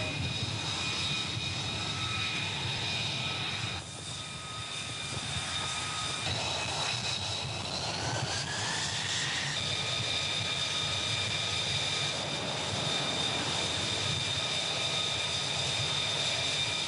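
An F-35C jet undergoing carrier catapult launch testing roars with a whining, rising turbine tone that shifts midway, a steady loud jet noise with no talking heard.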